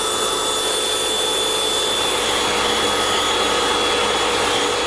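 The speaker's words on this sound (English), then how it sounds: "we vacuumed out the area surrounding the condenser fan and also the vent area here" A vacuum cleaner runs close by while cleaning around a refrigerator's condenser fan and vent, a loud, steady whining drone with an airy rush that holds constant throughout.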